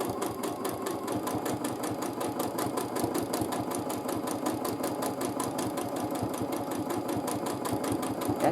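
A home sewing machine stitches a continuous figure-eight free motion quilting pattern, its needle chattering in a fast, steady rhythm that runs close and evenly throughout with no talking.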